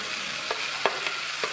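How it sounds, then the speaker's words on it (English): Tomatoes frying in a pan for omena, a Kenyan Lake Victoria fish dish, give a steady soft sizzle while a utensil stirs and scrapes in a few short, sharp strokes, close by with no voices. "That's been frying for about 4 or 5 minutes."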